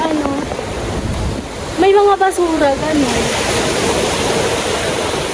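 Rough sea waves pounding at Burias during heavy rain, a loud, continuous roar of surf and downpour with wind buffeting the microphone, and a voice speaking over it midway.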